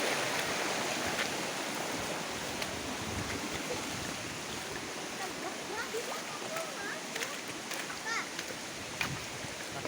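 Floodwater from recent rain rushing down a mountain slope, a steady broadband roar of flowing water filling the whole scene, with scattered faint splashes and no clear voices over it.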